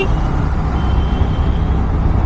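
Large trucks rumble past in busy road traffic, a loud, continuous low engine roar and road noise heard up close from a moving motorcycle.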